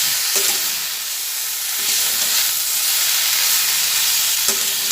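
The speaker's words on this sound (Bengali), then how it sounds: "ভেজে নিচ্ছি" Spiced green beans fry and get stirred in a pan, a steady close sizzle with a few scraping stirs across the clip and no talking.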